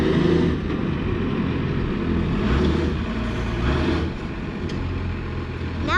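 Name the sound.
truck engine running through new exhaust pipes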